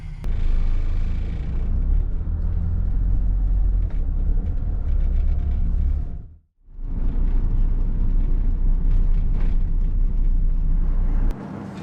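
A campervan drives along a European road, its cabin filled with a loud, steady low rumble of engine and tyre noise that briefly drops away mid-way before resuming at full strength.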